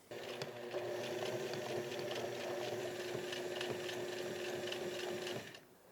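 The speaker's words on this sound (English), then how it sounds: "just sew right along that line I" A sewing machine stitches a buttonhole on grey plaid trousers, running in one steady, close, continuous whir for about five seconds before stopping.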